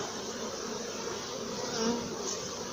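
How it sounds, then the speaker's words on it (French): Honeybees buzz around an open hive during queen grafting, making a dense, continuous droning hum of many insects close by, with no talking. "Un petit coup de... Voilà, les dernières abeilles."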